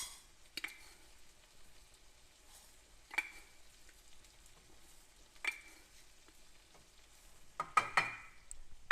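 Rice frying in a pan, a quiet steady sizzle broken by a few sharp clinks and scrapes of a utensil against the pan, with a cluster of clatter near the end.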